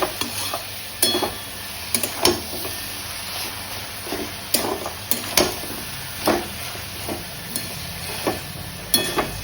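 Cabbage cooking with a katla fish head in a pan, a steady close sizzle broken by repeated scraping stirs of a utensil against the pan, with no talk.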